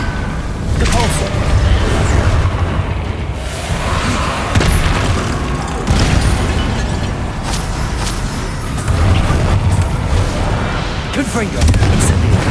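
Spell blasts and explosions in Hogwarts Legacy, dense rumbling booms and thuds layered over continuous game action, loud and close, with a voice shouting incantations over them.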